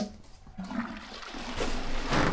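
A toilet flushes in a short, rising rush of water that swells toward the end, heard nearby with no talking.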